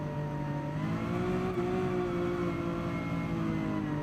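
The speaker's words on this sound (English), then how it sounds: "the engine sounds of the F1 cars and the, or the, what do you call it, Red Bull cars" Red Bull Formula 1 car engine from Gran Turismo 7, a steady droning whine with shifting harmonic tones, holding at a constant, fairly loud level throughout without pauses or talk.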